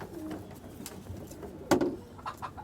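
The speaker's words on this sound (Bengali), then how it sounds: "এই যে কবুতরগুলো আমার দেখেন" Racing pigeons at a loft give soft, intermittent coos against a quiet background, with one louder, sharper burst near the end; no one speaks.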